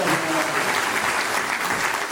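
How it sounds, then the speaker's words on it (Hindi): A crowd claps loudly at a Guru Purnima religious program in Raipur, Chhattisgarh, producing dense, steady applause that holds evenly for about two seconds with no pauses. "आप जोरदार ताली के साथ"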